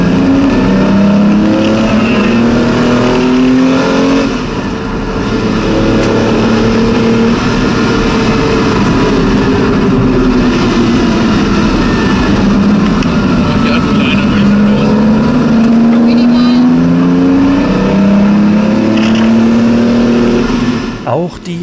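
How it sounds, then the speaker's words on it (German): A Porsche 914/6 GT race car engine holds a steady, loud drone at medium revs while still cold, its pitch rising and falling gently. A voice talks over it throughout. "Noch nicht warm ist, beginnt Max zunächst mit mittleren Drehzahlen"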